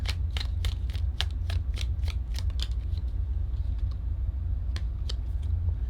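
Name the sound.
tarot cards being shuffled and pulled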